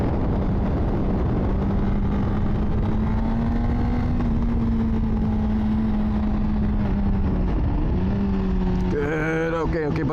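A 2024 Honda CBR600RR motorcycle engine drones steadily through a cornering practice run, its pitch shifting as the rider brakes and turns, with a rise in revs near the end.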